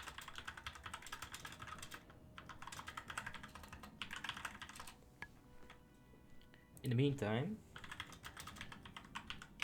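Computer keyboard typing clatters in rapid bursts of close, fairly loud key clicks, pausing between runs, with a brief spoken phrase in one gap.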